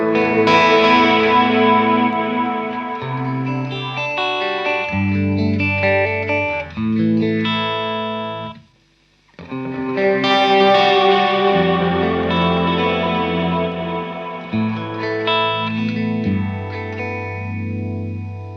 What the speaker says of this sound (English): you'll hear all the ambience and delays and reverbs spill over onto that